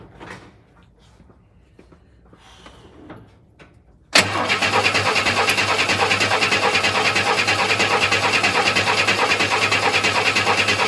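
A 1962 Chevy II engine cranks after its fuel pump is primed but fails to catch: after about four quiet seconds, a loud, steady, rhythmic cranking churn starts abruptly close by and runs without a break to the end.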